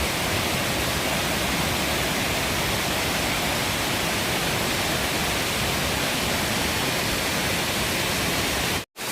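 A swollen mountain stream rushes after heavy rain, giving a dense, constant roar of water that is loud and close, steady until it cuts off abruptly at the very end.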